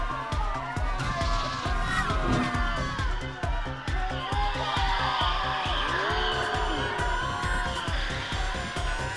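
Animated race cars roar past at speed, with engine whine, tire squeals and skidding over a busy, constant mix of effects and music, with brief bits of voice.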